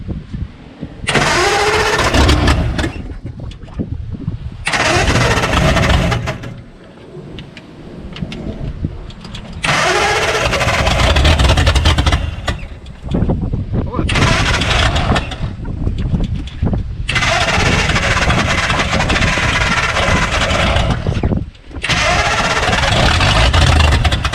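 A 1952 Ford F1 flathead engine, a long-unused field find, cranking in several loud bursts separated by short pauses before it catches and runs roughly, close and heavy.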